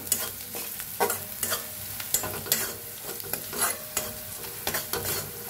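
Spices of turmeric and red chili powder are stirred through a hot pan, with repeated scraping strokes over a steady low sizzle, close and fairly loud, no voices.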